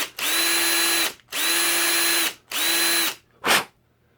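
Power drill boring out a rivet on a Hot Wheels diecast car: three sustained high whirring bursts of about a second each, then a short final blip, loud and close with brief pauses between.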